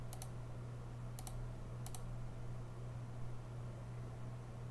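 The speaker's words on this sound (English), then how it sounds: "Do I need to click here?" Faint computer mouse clicks, three quick double clicks spaced about a second apart over a steady low hum and quiet room noise.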